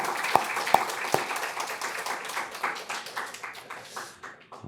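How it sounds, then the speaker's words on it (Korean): A church congregation claps, opening with a few loud, sharp individual claps before swelling into a dense round of applause that thins and fades toward the end. "우리 은혜의 박수, 감사의 박수 올려드립니다"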